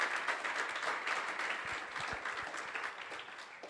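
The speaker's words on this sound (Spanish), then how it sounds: "Dale un fuerte aplauso al Señor por eso." Applause from a church congregation fills the room steadily for a few seconds at moderate volume, a dense patter of many hands with no voices on top.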